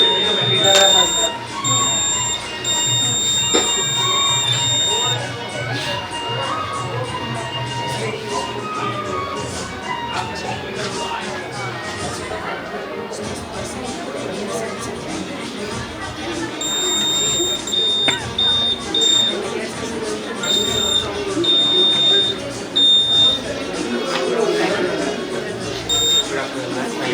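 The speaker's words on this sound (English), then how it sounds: "When an object approaches near the bus, it will trigger a buzzer." A proximity buzzer on a school bus safety model sounds in repeated high electronic beeps, mostly in the first few seconds and again later, under steady chatter from a crowded school exhibition.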